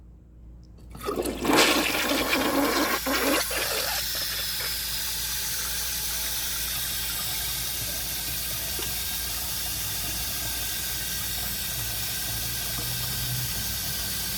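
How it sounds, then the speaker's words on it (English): A 1998 Eljer Patriot toilet flushes with a sudden loud rush of water, followed by a long steady hiss as the tank refills, close and alone without voices. "let's see how it flushes"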